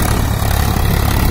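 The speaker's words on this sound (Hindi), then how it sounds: "गर्जना करता हुआ स्वराज आ रहा है मेरी तरफ, खेतों की भाइयों बुआई हो रही है।" Swaraj 744 XT tractor engine roaring as it ploughs a field for sowing, a steady, loud low-pitched drone that holds unbroken throughout.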